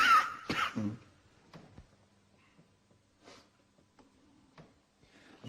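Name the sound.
person coughing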